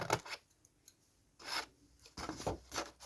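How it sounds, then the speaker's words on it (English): Scissors snip a small upside-down V notch into paper while making an envelope craft, giving a few short, close rasping cuts separated by quiet pauses. "now I'm just going to cut a little upside down V"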